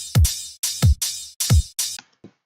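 Deep electronic kick drum thumps land at a steady four-on-the-floor pulse, each with a bright hissy layer on top, trailing off into quieter hits.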